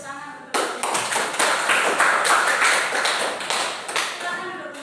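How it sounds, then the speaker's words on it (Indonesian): Students in a classroom clap for a group presentation: sudden crisp applause from a small crowd, lively and close, lasting several seconds and tapering slightly toward the end. "Silakan beri tepuk tangan untuk mereka."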